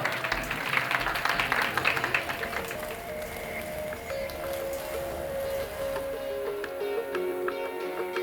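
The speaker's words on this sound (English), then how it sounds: "Big round of applause" An audience gives a round of applause at a live talk event, a burst of clapping strongest at the start that thins and fades over several seconds, heard at moderate distance with little else around it.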